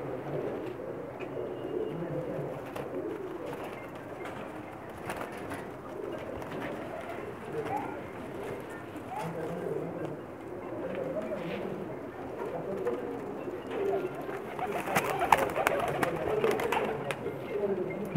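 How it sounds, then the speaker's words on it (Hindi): Soft cooing of Lakha pigeons repeats throughout, moderately close, over a low background murmur with occasional faint voices and rustling, on a rooftop in Pakistan. "बहुत ही नायाब कबूतर हैं इनके पास"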